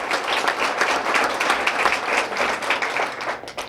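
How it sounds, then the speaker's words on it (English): An audience applauds Morningside at a 2016 chamber of commerce gathering, with fairly close, dense clapping that holds steady for several seconds. "Give them a nice round of applause for their commitment to redevelopment in our downtown."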